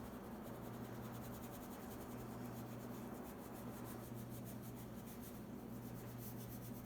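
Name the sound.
oil pastel rubbed on paper to blend colours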